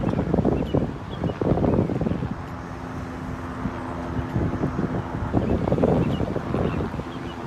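Strong, sudden wind high on a skyscraper buffets the microphone in rough, roaring gusts that swell and ease over several seconds.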